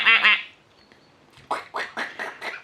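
A duck gives a loud, close squawking quack, then after a pause a run of five rhythmic quacks follows, outdoors in cold weather.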